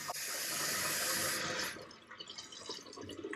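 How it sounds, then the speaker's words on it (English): Water rushes steadily from a toilet fill valve that will not shut off. It runs loud and broadband for about a second and a half, then drops to a softer trickle with small splashes. "Turn the water back on here. It is still running"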